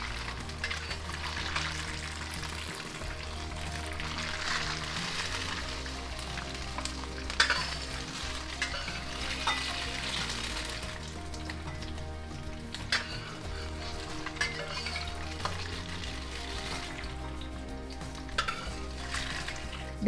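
Dried bean curd (tofu) browning in a hot wok for a whitebait stir-fry side dish, giving a steady close sizzle and crackle with occasional scrapes and clinks of a utensil against the metal, without any talking.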